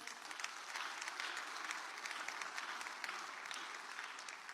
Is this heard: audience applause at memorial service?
yes